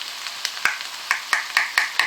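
Chicken coated in Balti spice mix fries in a pan, a steady close sizzle broken by a series of sharp scraping knocks as it is stirred, roughly one every quarter second.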